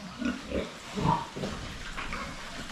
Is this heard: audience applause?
no